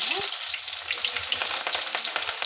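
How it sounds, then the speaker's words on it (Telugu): Onion and green chilies fry in hot oil with a loud, dense, steady sizzle that runs the whole time, broken by faint scraping stirs underneath and no voices. "ఎప్పుడైతే నూనె అయితే బాగా వేడైంది ఉల్లిగడ్డ"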